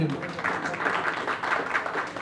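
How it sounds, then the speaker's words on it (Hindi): An audience at a 50th wedding anniversary celebration claps in a dense, continuous burst of applause that stays fairly even, with voices mixed in. "हाँ तालियां हो जाए"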